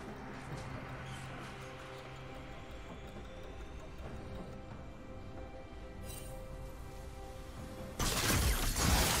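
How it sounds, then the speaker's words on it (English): A turret is destroyed in League of Legends during a top-lane Darius versus Sion match: after a stretch of quiet in-game ambience, a sudden loud shattering crash erupts near the end. "Red team's turret has been destroyed."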